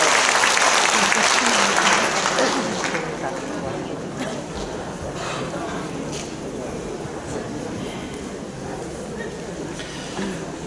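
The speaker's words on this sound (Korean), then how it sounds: "축하의 박수 주십시오." An audience applauding at a school entrance ceremony: loud, dense clapping at first that gradually fades to a softer wash, with voices murmuring underneath.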